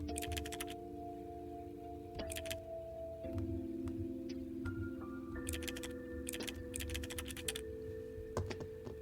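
Computer keyboard typing in a detective video game, quick bursts of clicking keys scattered between pauses over a steady electronic hum and sustained tones.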